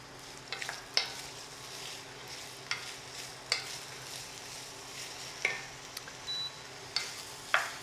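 Diced celery and aromatics sautéing in a soup pot, a low steady sizzle broken by periodic scraping strokes of a spoon against the pot, each stir a sharp brief scrape spaced a second or so apart.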